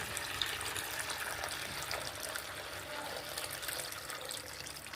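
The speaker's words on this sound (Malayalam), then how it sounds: "ഇനി ഞാൻ ഇവിടെ ചെറിയൊരു ബക്കറ്റിലേക്ക് കുറച്ച് വെള്ളം ഒഴിച്ചിട്ടുണ്ട്." Water pouring steadily into a small bucket, a continuous close trickle and splash that holds an even level for the whole stretch with no voices.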